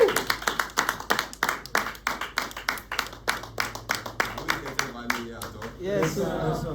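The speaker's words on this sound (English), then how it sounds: "A round of applause for our Reverend." Applause for a reverend at a music business academy event, with sharp hand claps repeating in a steady rhythm, fairly close, while voices and cheering rise over the end.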